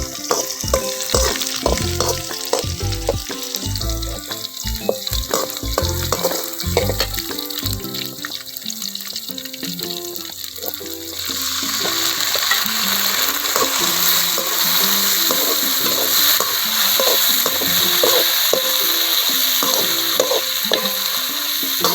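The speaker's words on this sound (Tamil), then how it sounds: "தக்காளி நல்லா வதங்கட்டும்." Chopped tomatoes fry in a pan for a spicy tamarind curry, sending up a loud, steady sizzle with stirring clatter, and the hiss grows stronger and denser partway through.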